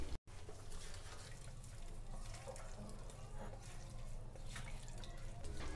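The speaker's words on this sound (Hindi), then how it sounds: "तो अब इसमें पानी जाएगा 2 गिलास।" Water poured from a glass into a pan of cooking jackfruit curry, a steady splashing stream that runs on for several seconds close to the mic.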